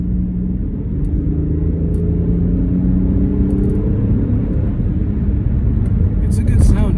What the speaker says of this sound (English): I'm gonna kick the car into sports mode so you can hear the engine turn up real quick.